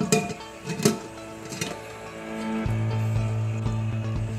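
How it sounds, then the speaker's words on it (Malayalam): A metal pressure cooker lid is set in place on the pot in a kitchen, with a few clinks and clanks at the start, then a steady hum with scrapes and taps as the lid settles. "ഇനി നമുക്ക് പ്രഷർ കുക്കറിൻ്റെ മൂടി ഇട്ട് കൊടുക്കാം"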